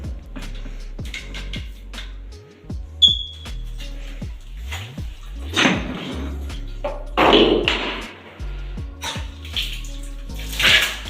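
Water running from a bathroom tap in a village house during plumbing work, splashing in uneven bursts with knocks and thumps of handling around it.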